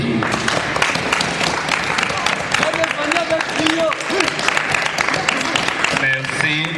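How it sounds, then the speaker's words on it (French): Audience applause at a theatre broadcast, steady dense clapping throughout with voices and speech mixed in over the top. "C'est ainsi que nous pouvons l'applaudir."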